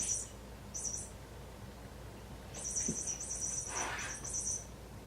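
A cat's toy gives off high, bird-like chirps and tweets in short bursts, first two brief calls and then a longer run of repeated chirping, moderately loud over a quiet indoor room hum.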